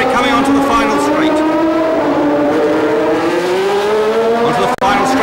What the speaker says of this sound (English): there's the Ferrari coming onto the final straight.